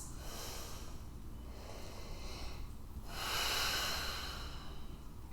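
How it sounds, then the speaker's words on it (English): Slow, deep breathing during a pyramid-variation pose in a prenatal and postnatal yoga flow, soft airy inhales and exhales close to the mic, with a fuller breath rising midway. "Deep breaths."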